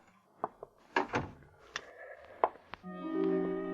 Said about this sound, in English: After he closed the door